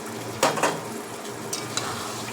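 Water goes into a pan of spiced raw rohu fish frying with potatoes in oil, giving a steady hiss and sizzle with a couple of sharp splashes or utensil clinks near the start.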